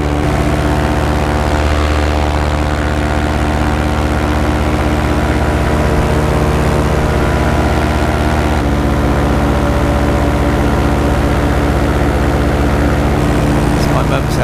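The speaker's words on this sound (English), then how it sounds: "Got a paramotor flying over." A paramotor engine drones steadily overhead in a wooded caravan park on a cold day, a continuous loud buzzing hum that holds throughout with a slight shift in tone partway.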